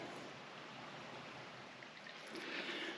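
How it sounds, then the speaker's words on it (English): Huey Creek flowing beside a sandy esker at Meilleur's Bay in the Ottawa Valley, a steady broadband rush of moving water with no pauses, fairly close, swelling slightly louder and brighter near the end. "And just off to my right, I can hear the creek."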